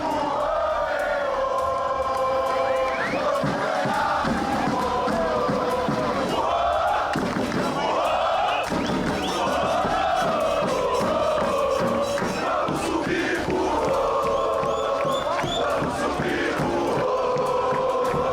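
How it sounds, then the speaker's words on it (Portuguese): Football supporters chant in unison at the Joaquinzão stadium before a regional derby, a loud, continuous crowd song with rising and falling melodic lines, close and dense throughout. "Os gritos que deram o tom de uma noite histórica para o futebol regional"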